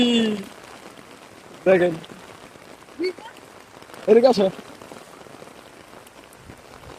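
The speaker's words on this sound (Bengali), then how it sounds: "হ্যাঁ বৃষ্টি দিচ্ছে" Rain falls steadily outdoors in a waterlogged spot after a long dry spell, a soft continuous patter throughout, with people talking and laughing briefly over it.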